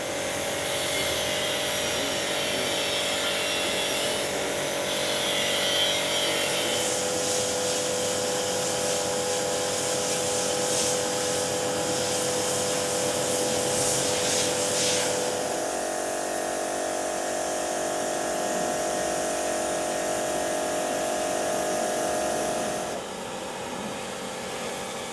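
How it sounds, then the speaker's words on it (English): A high pressure washer spraying steadily with a loud motorised hiss and whine, sustained throughout and shifting in tone partway through before easing slightly near the end. "High pressure washer of Agrimate, Oleomac, Comet and many more brands are available in the open market."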